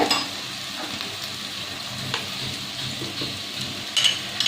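Onions frying in a pan, with a steady sizzle under occasional spatula scrapes and stirring, close up, a sharper metallic clatter near the end, and no talking.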